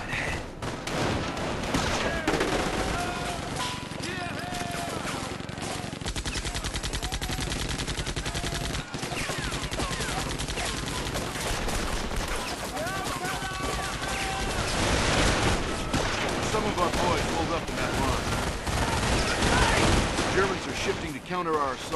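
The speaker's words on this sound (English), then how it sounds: "Squad, stop. Firefight ahead." Dense rifle and machine-gun bursts crackle through a firefight in the video game Company of Heroes, with overlapping shots near and far and occasional heavier blasts, under intermittent voices.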